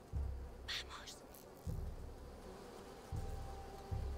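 Wasps buzz in the video game A Plague Tale: Requiem, a low droning hum that swells in repeated bursts, with brief higher game sounds over it and no talk.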